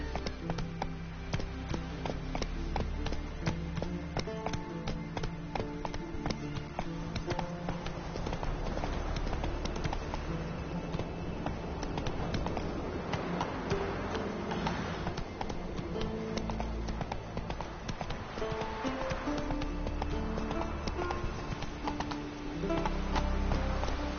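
Steady clip-clop of horse hooves galloping through The Witcher 3, a continuous rhythmic patter kept up throughout with game music and ambience layered underneath, no talking.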